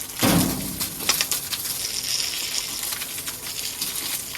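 Water gushing from a pump-fed outlet onto a courtyard floor, a steady broad rush with a sharper burst near the start and birds cooing and calling faintly over it, no talk.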